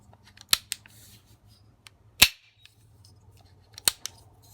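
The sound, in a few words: Timney AR-15 rifle trigger clicking and resetting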